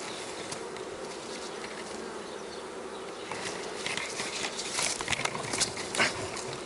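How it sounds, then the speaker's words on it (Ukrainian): A dense, steady buzz of a honeybee swarm fills the air, close and continuous, with individual bees zipping past the microphone toward the end. "наші бджоли перелазять у корпус"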